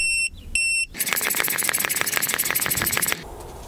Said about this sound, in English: take the sensor off, and it'll beep